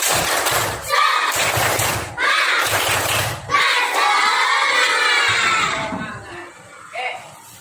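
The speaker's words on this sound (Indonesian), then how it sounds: "kita tepuk semangat dulu ya. Tepuk semangat." Children in a classroom doing a rhythmic spirit clap, bursts of group clapping and thumping in a patterned beat with loud shouting and chanting voices, ending in scattered cheers.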